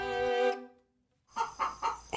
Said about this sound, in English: this is actually Zelda, who is about to jump in and lay an egg, and she's just letting everyone know this is happening